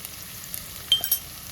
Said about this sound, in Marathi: हिंग टाकायचं आणि हळद टाकायची. छान परतून घ्यायचं.